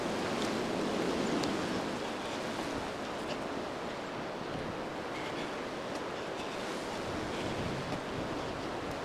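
River water pouring over a weir near a canal in Sheffield, a dense, continuous rushing roar that holds steady throughout with no break.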